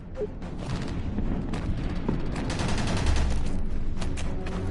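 Continuous battle din from the Honor and Duty: D-Day video game, with dense rumbling gunfire and explosions sustained throughout at steady loudness, no voices.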